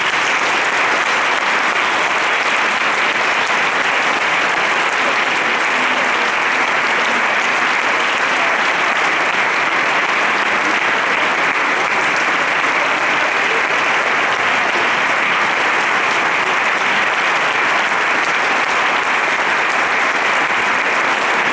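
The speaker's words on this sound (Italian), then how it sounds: "che la salutiamo ancora con applauso." A church audience at a Lenten bishop's evening gathering gives sustained, loud applause in thanks to a woman named Cecilia, a dense even roar of many hands that continues steadily for over twenty seconds without talk.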